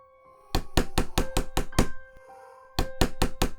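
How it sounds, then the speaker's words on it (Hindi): Someone knocks on a wooden door early in the morning: a quick run of firm, evenly spaced raps, a brief pause, then another burst of knocks, all loud and close with nothing else heard. "अगले रोज सुबह सुबह दरवाजे पर फिर दस्तक हुई।"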